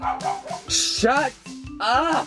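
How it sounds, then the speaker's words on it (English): A dog barks in short, sharp yips at close range, overlapping a person who shouts over it indoors. "That was my dog"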